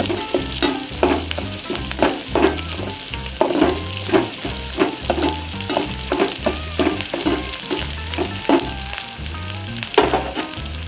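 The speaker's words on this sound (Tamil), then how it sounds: "வெங்காயம் மிளகாய் வதங்கிருச்சு." Onion and chili sauté in a pan for a dry fish fry, with a loud, close sizzle broken by a steady rhythm of repeated spatula strokes scraping and knocking against the pan.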